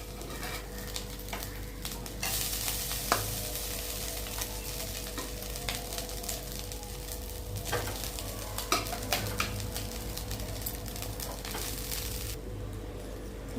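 White rice being added and stirred into a pan for coconut rice, a quiet continuous sizzle with scraping stirs and light clatter of a utensil against the pan, no talking.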